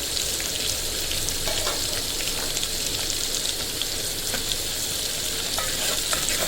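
Green chillies frying in a hot pan as the base for a chicken curry, with onions already in the oil, a dense loud continuous sizzle and crackle with light pops throughout and no voices.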